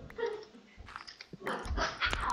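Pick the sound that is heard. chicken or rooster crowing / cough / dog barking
dog barking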